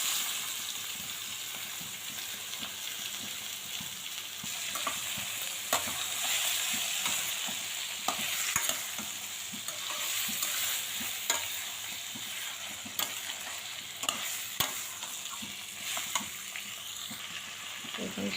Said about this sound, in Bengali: এখন সবজিগুলো দিয়ে দেব।